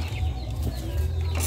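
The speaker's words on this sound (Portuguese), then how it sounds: "Os pintinhos." Chicks and chickens cluck at close range in a Maranhão farm setting, their soft calls running steadily through the clip over a constant low background hum.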